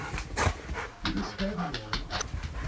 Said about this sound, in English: The dog is here somewhere.